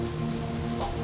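Steady rain pouring down in a violent summer storm in Death Valley, a dense, even hiss of drops on surfaces throughout, close and continuous with no voices.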